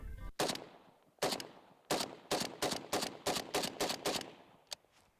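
7.62x39 rifle rounds fly past in a quick series of about ten sharp, loud cracks. A tight burst in the middle is bracketed by single shots, and a fainter one trails off at the end.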